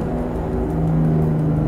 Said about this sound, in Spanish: Entonces seguimos aplicando freno motor.